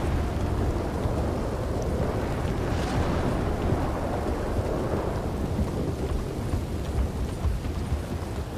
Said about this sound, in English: a storm like the heavens are falling down upon us